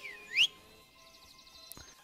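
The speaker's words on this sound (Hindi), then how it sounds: "ये देख रहे हो गाइस एक सीटी पे आता है भाई हमारा घोड़ा" A short, bright rising whistle calls a horse in the video game Minecraft. A fainter warbling tone follows, and there is a small click near the end, all quiet and alone.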